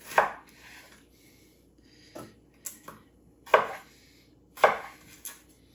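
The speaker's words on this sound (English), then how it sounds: "We're gonna start off with our potatoes. Now I'm just going to chop them kind of smaller than I normally would." A kitchen knife chops potatoes into small pieces, about six sharp, close knocks against a cutting board at an irregular pace with quiet gaps between them.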